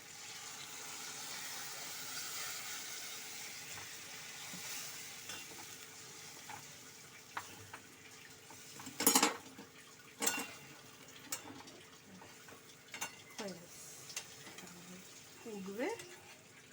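Milk-soaked paneer poured into a pan of frying poppy seed and cashew paste, a quiet background sizzle broken by a few sharp clatters and splashy scrapes of utensils near the end.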